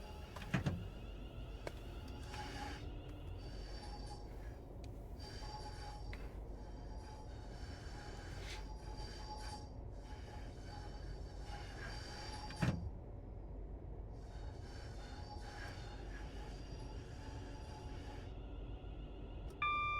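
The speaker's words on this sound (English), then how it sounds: "IGBT sound." Electric train's IGBT traction inverter whine on a UK line near Manchester Piccadilly, sustained tonal hum and whistle under steady rumble of the moving train, with a couple of brief clunks along the way.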